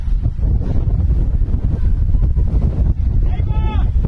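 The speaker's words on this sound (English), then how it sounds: "right now dry but windy. It is certainly gusting out here" Gusty wind buffets the microphone outdoors at a women's college soccer match, a loud constant low roar with rushing swells, and faint voices in the background.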